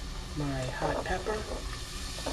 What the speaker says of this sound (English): I'm going to saute that around a little bit first.